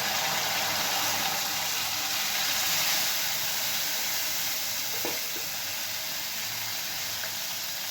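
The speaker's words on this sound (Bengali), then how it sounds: "আমি সামান্য জল দিয়ে মশলাটা একটু কষিয়ে নেব।" Green chili paste masala cooks with a little water in a pan, producing a continuous, even hiss of sizzling and steam, with a faint tap near the end.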